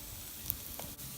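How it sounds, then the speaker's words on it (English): Yucca center stalks fry in hot oil, giving a soft, steady sizzle with a faint stir or two, close and quiet, with no voices. "These are the center stalk of the yucca. I'm sort of frying them in the oil here."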